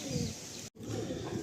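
Pigeons coo steadily in a loft housing Giribaj and Madrasi breeds, low soft calls running close and continuous with a brief drop to near silence partway through, no talk over them.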